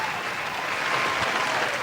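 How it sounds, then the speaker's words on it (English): A canned round-of-applause sound effect is triggered during a podcast, a thick, continuous crowd clapping that stays loud and even throughout the short burst. "Let me hit the round of applause."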